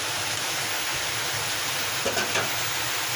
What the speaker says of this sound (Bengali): বাইরে প্রচুর বৃষ্টি আসছে।